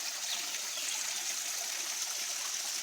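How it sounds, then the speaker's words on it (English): Natural spring water from a community catchment in the woods flows in a steady, moderately faint trickling stream, continuous and even, heard alone without talk. "This is what you call the natural spring water"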